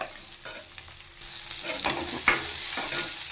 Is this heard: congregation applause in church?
no